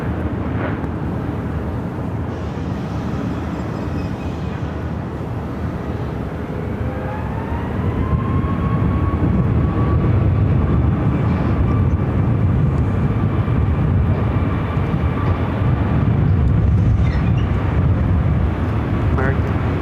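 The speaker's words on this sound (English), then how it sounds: "This is American Airlines Flight 2476 headed to Philadelphia on an A321neo" A loud, continuous roar from an American Airlines A321neo jet at Phoenix airport swells steadily, with a rising engine whine over deep rumble as the aircraft powers up; radio chatter runs beneath the noise.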